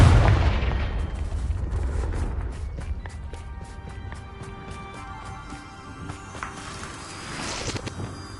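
A blasting-spell explosion in a Harry Potter game opens with a deep rumbling boom, then decays into scattered clicks, impacts and a faint ringing tail.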